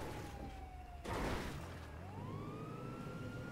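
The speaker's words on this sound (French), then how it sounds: "moi j'ai activé la sirène aussi" A video game police car siren wails in sweeping rising and falling tones, briefly interrupted by a burst of noise, with engine rumble beneath.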